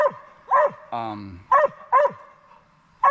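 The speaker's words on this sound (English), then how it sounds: "I don't want Riley's barking to bother him" A dog named Riley barks on a hiking trail, giving about five sharp, loud barks spaced irregularly, with a brief creaking, rasping sound between the first two.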